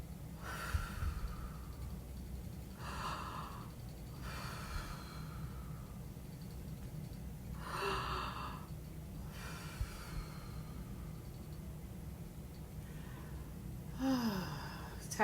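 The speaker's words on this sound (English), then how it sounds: "You're going to breathe an alpha breath in." Slow, deep breaths drawn in and let out during a relaxation healing session: several soft, airy breath sounds spaced a few seconds apart, close and unhurried, with no talking.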